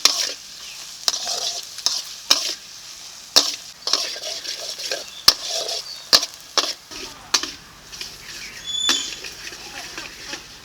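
Onions frying in butter with a soft sizzle as a spatula scrapes and stirs them in sharp, irregular strokes, close up, with a low hum joining partway through.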